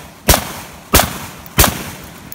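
Carbine shots fired at a target on a cold weather course, three sharp, loud reports spaced evenly about two-thirds of a second apart, each decaying quickly.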